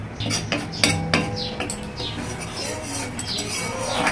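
Spice mix for a vegetable biryani is scraped from a wok into the cooking pot, giving a quick run of metallic clanks and scrapes from pots and utensils.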